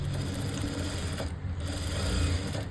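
A sewing machine stitching the lower part of a plain blouse runs in a steady, fast mechanical whir with a dense rapid needle rhythm, close and continuous, barely pausing mid-run, with no voices.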